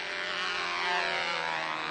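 A model airplane flies overhead at a national model aviation meet, its small glow engine producing a steady, continuous buzzing drone that holds at a fairly even level throughout, with no talk.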